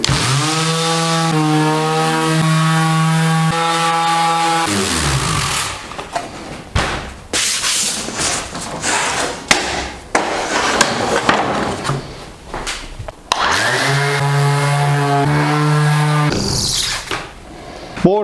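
A loud power sander whines steadily with harmonic tones while sanding a fiberglass boat hull, breaking into rough, uneven grinding in the middle before the steady whine returns.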